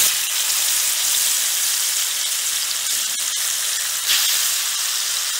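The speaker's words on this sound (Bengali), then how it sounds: "মাংসটা ভালো সুন্দর ভাজা হয়েছে, সব সাইডটা খুব সুন্দর করে ভাজা হয়ে গেছে" Meat sizzles and fries steadily over heat at an outdoor village barbecue, a dense continuous hiss with a few brief pops, loud and close with no voices.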